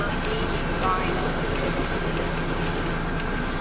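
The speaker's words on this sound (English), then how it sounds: "look at this train" A southbound Union Pacific grain train rolls past close by in Cambridge, Iowa, on the Spine Line, a steady loud rumble of wagons with a constant rolling roar and no break.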